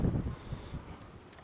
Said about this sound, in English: the wind is very windy